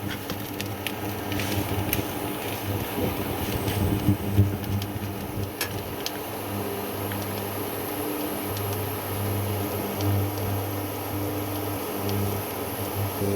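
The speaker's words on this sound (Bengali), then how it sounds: "তোমরা দেখতেই পাচ্ছ আমি ইন্ডাকশানে রান্না করছি" Steady fan-like hum of an induction cooktop cooking chickpea greens, a constant low drone with faint scraping and light clatter layered over it, close and unbroken throughout.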